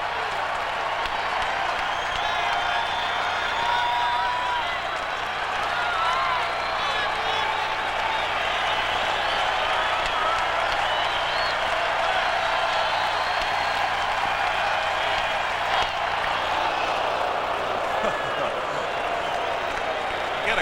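A baseball stadium crowd of about 25,000 at a 1994 Red Sox vs Twins game lets out a sustained collective breath, heard as a broad, even wash of crowd noise that swells and hangs for the full stretch.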